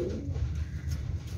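Cobra breed pigeons coo softly and close up in low, rolling bursts over a quiet murmur of background noise.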